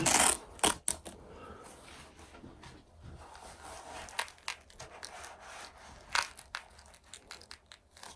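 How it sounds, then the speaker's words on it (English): A strap on an Alpinestars GP Pro R3 motorcycle glove is undone close by, giving a sharp rip at the start and then scattered faint rustles, scrapes and clicks. "let me just undo the strap here"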